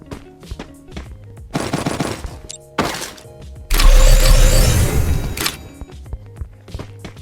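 M4 rifle fire in the shooting game Free Fire crackles in several sharp automatic bursts. Short volleys give way to a longer, louder sustained stream of shots, with brief pauses and light game sounds between them.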